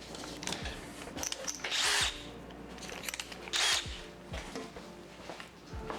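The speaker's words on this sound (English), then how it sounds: "So let me grab my drill." A power drill bores a mounting hole while a catch can, overflow tank and boost controller are being fitted to a car. The close, loud whirring comes in two short bursts, with clicks and handling noises between them.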